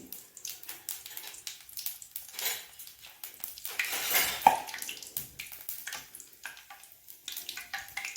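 Bay leaf and fennel seeds frying in a pan for mattar paneer, a soft quiet sizzle with scattered stirring scrapes and light clinks of a spoon against the pan.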